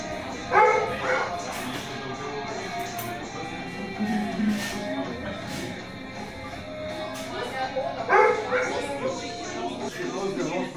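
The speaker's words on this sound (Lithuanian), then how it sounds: "Visi loja aplinkui, šunys loja" Dogs bark in short bursts at a middling distance, a few yips repeating amid background noise.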